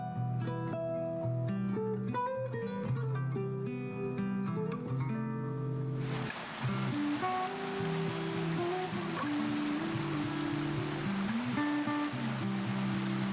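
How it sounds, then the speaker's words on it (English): A waterfall on the Indalsälven River in Sweden gives a steady rushing roar of tumbling water, rising beneath music midway and continuing under it to the end. "tumbling over rocks with a powerful rhythmic roar"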